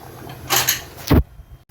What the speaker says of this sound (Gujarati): ઢાંકણ ઢાંકી દઈશું।